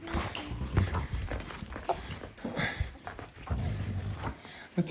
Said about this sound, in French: mon bébé chien qui a tapé dans mes chaussures